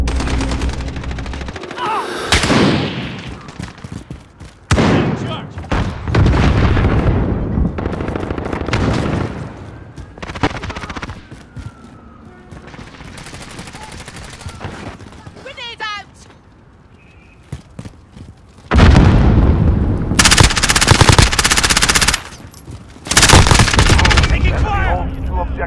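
Gunfire in the Call of Duty Modern Warfare multiplayer video game: rapid automatic bursts and single shots come in dense clusters, loud and close, mixed with explosions and game voices calling out over the action.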